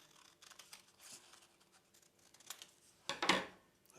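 Scissors snipping tabs off paper card, a few quiet close cuts followed by a louder, longer crisp snip near the end.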